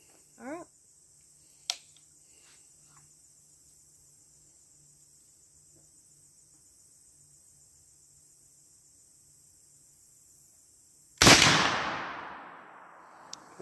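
A .50 caliber Tennessee mountain rifle, an old-style muzzleloader, fires once after a delayed ignition; a quiet stretch with small clicks and pops gives way to a single loud, sharp report that rings and decays over a second or two.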